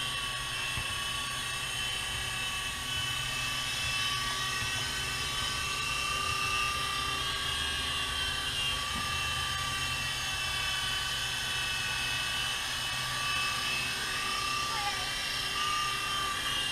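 A small remote-control GP Toys G610 3.5-channel helicopter flying gives a high, steady whine, buzzing continuously throughout, loud and close, with a constant droning hum underneath.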